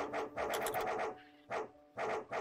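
Dog barking in the video game Final Quest, a short series of loud, close barks in separate bursts, alone with no talk.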